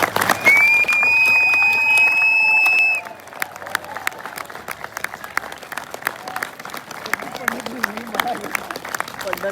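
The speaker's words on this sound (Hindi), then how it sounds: "आप सब की तालियों में जनाब तारक शालिक भाई।" Crowd applause at a college stage drama event begins loud and dense under a sustained tone, then drops after three seconds to scattered, sharper claps continuing for several more seconds.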